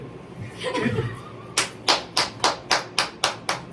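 A congregation at a church gathering in Ajmer claps in steady unison, about nine sharp, evenly spaced claps following a stretch of murmuring voices and soft laughter.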